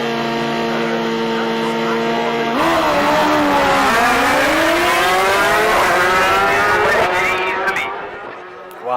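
Drag racing motorcycles, a 2017 BMW S1000RR among them, launching at a national drag meet: a loud sustained engine roar climbs through rising pitch sweeps as the bikes pull away, then cuts out abruptly near the end.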